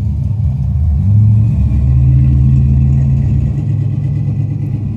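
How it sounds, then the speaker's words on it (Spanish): A passing car with a rough, damaged-sounding engine, its low droning rumble loud and close, swelling slightly as it goes by, with no talk over it. "Espera un momento, un carro está pasando."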